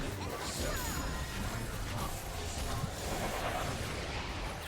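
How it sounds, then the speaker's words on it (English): A crashing clatter of a bowling ball striking and scattering pins in the Wii Sports Bowling video game, a dense, rattling burst that fills the short stretch without letup. "it's the sound of your ball hitting the pins and knocking several over"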